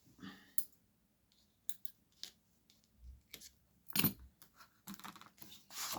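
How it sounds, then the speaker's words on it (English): Quiet, close snips of scissors cutting, several short crisp cuts spaced irregularly, with a few soft clicks and handling noises between them. "Some scissors."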